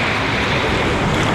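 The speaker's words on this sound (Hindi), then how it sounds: "बहुत बहुत बड़ी लहरें आती हैं" Big ocean waves at Gwadar surge toward the shore in a loud, continuous wash of surf mixed with wind rumble on the microphone, with no voices present.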